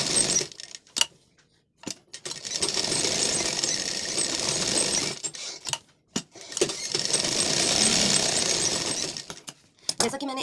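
A sewing machine stitching the side seam of a lined blouse, running in two long steady mechanical bursts separated by brief pauses and clicks, close and fairly loud.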